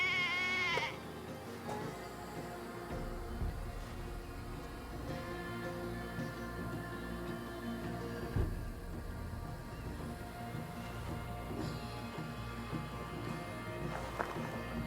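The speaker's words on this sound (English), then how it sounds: "A man like me can ill afford to slaughter a sheep for victuals" Sheep in Assassin's Creed Valhalla, with a clear wavering bleat at the start, then quieter farmyard and ambient sounds with a few faint further calls.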